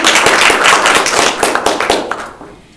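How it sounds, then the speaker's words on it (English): A round of applause from the audience at a women entrepreneurs panel event, loud and close, with dense rapid clapping that thins out and fades toward the end. "So I just want to give them a round of applause"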